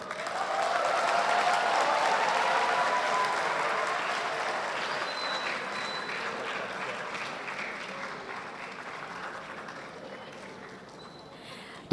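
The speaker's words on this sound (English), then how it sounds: "let's give the big applause." Large audience applause at an academic lecture, swelling quickly into loud, sustained clapping from a big crowd and then slowly tapering off over about twelve seconds.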